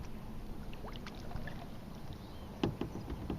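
A kayak paddle dips and splashes gently on a calm bayou near Lake Pontchartrain, soft water drips and strokes over a low breezy background, with one louder splash near the end.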